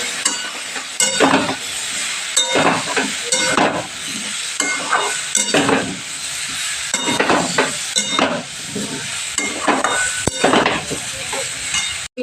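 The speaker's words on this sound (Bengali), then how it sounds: "ব্রোকলি আর আলুটাকে আমি অনেকক্ষণ ধরে ভালো করে ভেজে নিচ্ছি" Broccoli and potatoes fry in a pan with a constant sizzle, broken by repeated scraping stirs of a spatula against the metal, close and loud with no talking.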